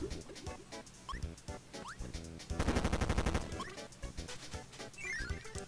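Rapid bursts of booming cannon fire in Kirby Squeak Squad thump in quick succession over bright, busy electronic music and chirpy effects.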